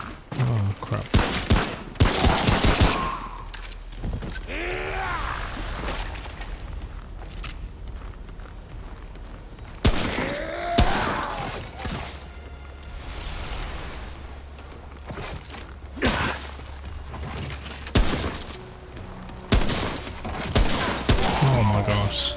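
Video game gunfire in Remnant: From the Ashes comes in several loud bursts spread through the stretch, with sustained rattling between them and a voice speaking over part of it.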